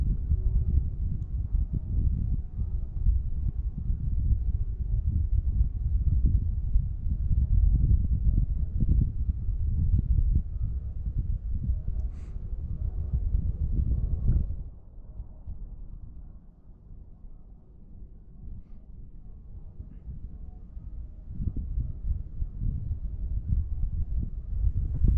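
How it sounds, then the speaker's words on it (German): Strong, steady wind buffets the microphone on a freshly snow-covered mountain, the Pfänder, with a dense low roar that eases midway and then picks back up. No talking is heard. "Noch viel Wind."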